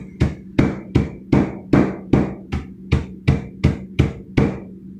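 A hammer strikes nuts being crushed for a candy recipe, twelve sharp, evenly spaced blows in a steady rhythm, loud and close with no talk.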